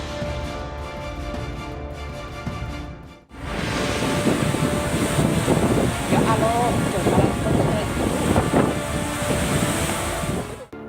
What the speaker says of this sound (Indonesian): Angin kencang Banyumas.